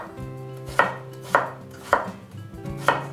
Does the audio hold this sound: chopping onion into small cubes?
yes